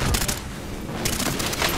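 Rapid pistol fire from a 160-round Sykov in Call of Duty: Modern Warfare, a dense, continuous burst of shots that dips briefly midway before resuming, loud and close in a game match.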